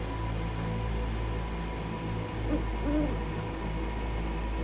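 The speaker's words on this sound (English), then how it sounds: "That's just an owl, but it's a noise," An owl hooting in a forest in a video game, two soft hoots rising over a constant hiss of ambient noise, fairly faint and distant.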